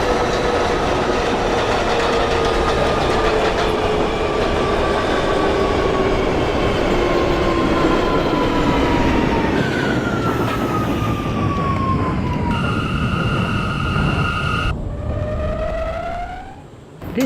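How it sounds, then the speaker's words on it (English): An R179 subway train on the C line runs in the openBVE simulator with a loud, steady roar and falling whine, and gliding motor tones shift in pitch as it slows near the end. "This is a Bronx-bound C local train."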